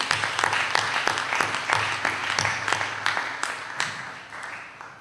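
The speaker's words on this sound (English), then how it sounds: "Another round of applause for our gifters, please." Audience applause at a 2022 donor appreciation ceremony, steady clapping from a crowd in a hall that holds for about five seconds and thins slightly toward the end.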